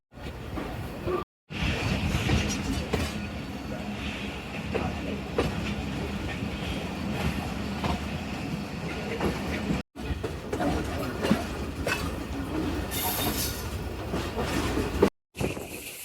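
Shalimar Express passenger train running on rails out of Faisalabad, a steady rumble with clickety-clack wheel rhythm and hiss, continuous and close, broken by a few brief cuts.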